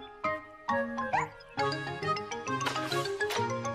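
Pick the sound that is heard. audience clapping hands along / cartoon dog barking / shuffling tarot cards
cartoon dog barking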